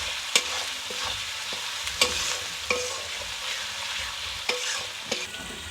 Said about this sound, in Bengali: এগুলোকে খুব ভালো করে মিশিয়ে নেব। খুব ভালো করে কষাতে হবে।